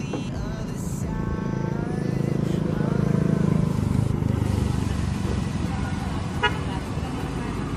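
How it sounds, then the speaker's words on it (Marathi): An auto-rickshaw travels along a road, its steady engine rumble and road noise running throughout, with a brief horn toot near the end and traffic around it. "चल चाललं आहे ऑटो"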